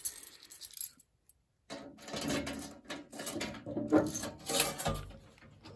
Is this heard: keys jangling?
yes